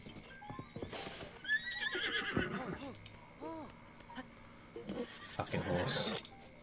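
A horse in the video game Zelda: Breath of the Wild neighs and whinnies in clear bursts alongside clip-clop hooves, with someone talking over it throughout.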